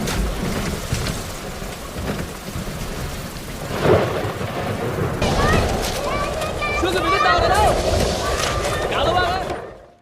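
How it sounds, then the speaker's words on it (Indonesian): Storm over a school, heavy rain pelting surfaces with thunder rumbling and a loud crack midway, then higher squeaky tones and voice-like sounds over the downpour before it cuts off. "Song terbangun dengan sekolah dilanda badai."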